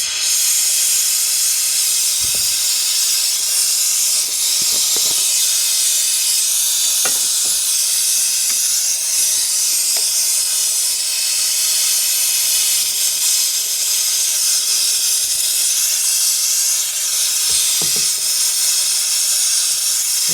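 An oxygen-propane torch roars steadily as it melts a gold bar for handmade wedding bands, a loud continuous hissing blast with a few faint clicks and knocks underneath.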